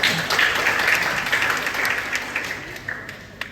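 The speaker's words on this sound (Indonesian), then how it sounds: "Beri tepuk tangan untuk pemateri kita." An audience applauds a speaker at a university talk, with dense clapping that starts strong and gradually thins out over a few seconds.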